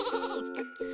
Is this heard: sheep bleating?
yes